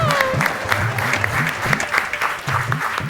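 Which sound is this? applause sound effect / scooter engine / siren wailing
applause sound effect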